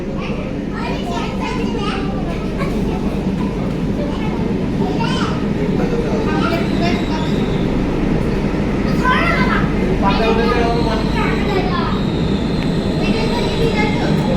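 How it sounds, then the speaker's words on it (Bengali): A metro train departs Dum Dum Cantonment station in Kolkata, rolling along with a steady low roar and rattling, while voices and children's chatter carry on throughout. "Dumdum Canton metro railway station থেকে মেট্রো ছেড়ে বেরিয়ে যাচ্ছে সামনের দিকে"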